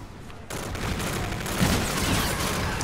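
Gunfire in the Call of Duty Infinite Warfare video game, a steady, dense fusillade of rapid shots and booms that continues throughout without any talk.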